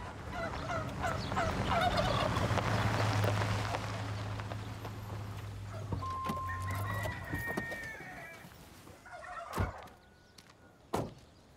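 Poultry call from a pen of newly acquired birds: gobbling and clucking with a rooster crowing, several fowl voices overlapping at close range, followed by a few sharp knocks near the end.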